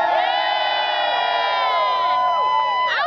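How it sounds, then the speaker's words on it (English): A large, enthusiastic crowd at a Go-Go's event cheers and screams loudly without a break, many high voices whooping together, with a fresh swell of shrieks near the end. "this is one of the most enthusiastic crowds we've had in a very long"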